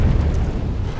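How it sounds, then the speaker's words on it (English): A cannon fires in Monster Hunter World during the Zorah Magdaros fight, a single loud, deep boom that rumbles briefly before fading. "activate the dragon head and shoot both these cannons"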